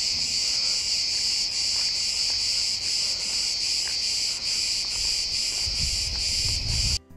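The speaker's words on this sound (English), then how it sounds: "the high-pitched whirring of the cicadas" Cicadas whir in a shrill, unbroken drone that pulses slightly, loud and close throughout, with a faint low rumble near the end, at ancient ruins in western Turkey.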